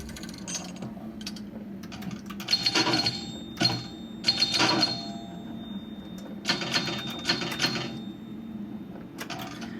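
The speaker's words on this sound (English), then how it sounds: "Today we're going to be reviewing 2001 by Gottlieb through virtual pinball" Virtual pinball on a Gottlieb 2001 table: clicking flippers, ratcheting mechanical clatter and sharp bursts of bell-like chimes and dings, irregular and fairly quiet, with a sustained electronic tone underneath.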